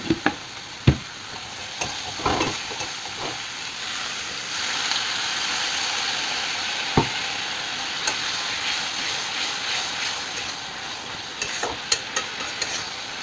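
Potatoes and spices stirred and fried in a pan, a steady sizzle broken by sharp scrapes and knocks of a spoon against the pan, close and alone with no voice.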